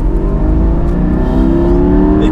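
A Porsche convertible's engine revs hard as it accelerates, a loud, close, continuous roar with harmonics rising steadily throughout.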